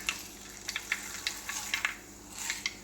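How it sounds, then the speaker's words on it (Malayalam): Mustard and fenugreek seeds popping and crackling in hot oil for mango pachadi, with scattered sharp bursts over a steady sizzle, fairly close. "ഉലുവയും കടു കടുകൊക്കെ പൊട്ടി വരുന്നുണ്ട്"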